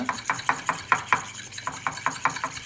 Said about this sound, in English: Mix that up a little bit